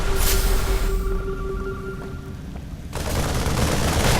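Rapid gunfire from three StarCraft II marines shooting down a Zerg creep tumor, a loud continuous rattle of shots layered with game sounds and music, with a brief quieter stretch in the middle.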